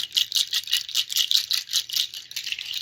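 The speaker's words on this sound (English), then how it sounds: "We're going to do the nut rattle. Make some sound up in here." A nut shell rattle shaken steadily in quick rhythmic pulses, a dry, clattering sound, close and fairly loud, with no voices.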